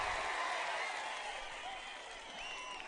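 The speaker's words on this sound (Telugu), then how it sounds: "అవును అంటే గట్టిగా చప్పట్లు కూడా చెప్పండి" A crowd at a political rally applauding, a dense wash of clapping heard from a distance and fading slightly midway, with a faint voice mixed in.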